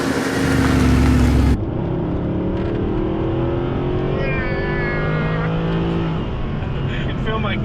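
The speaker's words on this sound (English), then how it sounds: "Yes, the proper AMG motor. No turbos, big displacement." A naturally aspirated Mercedes-Benz AMG engine with big displacement and no turbos pulls hard under acceleration, its rising tone loud and close. A brief louder burst opens the stretch, and people talk over the engine.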